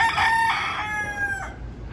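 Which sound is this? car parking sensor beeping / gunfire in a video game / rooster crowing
rooster crowing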